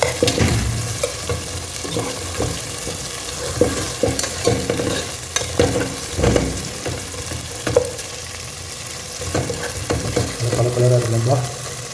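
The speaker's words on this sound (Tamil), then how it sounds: "கத்திரிக்காய் ஒரு 5 நிமிஷம் அதே எண்ணெயில் கொஞ்சம் வதங்கிட்டோம்." Brinjal pieces sauté in hot oil in a pan for a home fish curry, producing a continuous close sizzle punctuated by repeated spatula scrapes and stirring knocks, with no talking.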